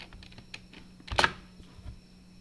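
Keys pressed together on a computer keyboard for a spreadsheet shortcut, one sharp clustered click near the middle after a few faint taps, close and quiet.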